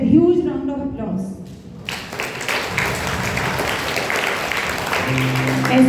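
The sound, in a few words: applause at a school investiture ceremony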